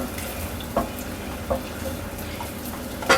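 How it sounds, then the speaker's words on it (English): Butter melts in a saucepan over medium-low heat, giving a soft, low sizzle with a few light clicks and taps of a utensil against the pan. "put the butter in the saucepan on medium-low, and I'm just melting that"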